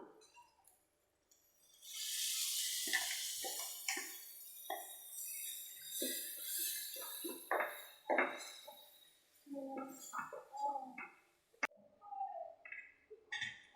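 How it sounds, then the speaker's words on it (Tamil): Ground coconut and water are poured into a chickpea curry (kadala curry) for idiyappam, giving a steady liquid pour that gives way to scattered clinks and scrapes of a vessel and spoon, close and moderately quiet. "அரைச்ச தேங்காவை இந்த மாதிரி ஊற்றினதுக்கப்புறம் நீங்கள் தேவையான அளவுக்கு தண்ணி ஊற்றிக்கோங்க"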